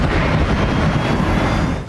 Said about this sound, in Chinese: 这就是俄军首度对乌克兰哈尔科夫动用 FAB-3000 高爆航空弹的攻击瞬间画面。